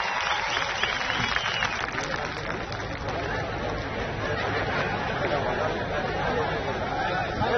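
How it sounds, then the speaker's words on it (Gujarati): A crowd at an outdoor political rally claps to welcome a speaker, a dense sustained wash of applause mixed with chatter and some laughter. "જોરદાર તાળીઓથી સ્વાગત થાય।"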